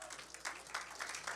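Church congregation applauding in praise during a Spanish-language worship service, a soft, distant patter of clapping in several bursts.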